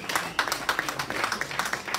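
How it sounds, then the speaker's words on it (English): An audience at a sports club's annual award ceremony in London breaks into applause, heard as dense, continuous clapping from a crowd for two seconds. "Give him a loud round of applause"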